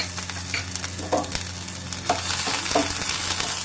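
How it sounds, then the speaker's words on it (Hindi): Steady sizzling of ginger garlic paste frying in hot oil, with occasional stirring scrapes and clinks of a utensil against the pan. "अब इसमें हम अदरक लहसुन का पेस्ट डालेंगे।"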